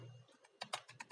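Rapid keystrokes on a computer keyboard, about six or seven light, close clicks in a quick uneven burst, quiet and without talk.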